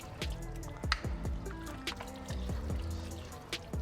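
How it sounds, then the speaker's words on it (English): Half and half poured slowly into a hot cooking pan, a soft liquid trickle with scattered drips and splashes, close and moderately quiet, with no voices. "I'm gonna slowly add in some half and half"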